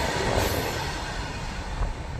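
A passenger train rolls through a village railway station in Gujarat, a loud, continuous close rumble of wheels on rails with faint squealing throughout.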